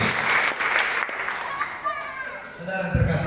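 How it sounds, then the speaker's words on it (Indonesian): A church congregation claps during a Christmas service, a burst of applause mixed with a preacher's voice, moderately loud and brief. "Tepuk tangan terbaik Tuhan Yesus Kristus."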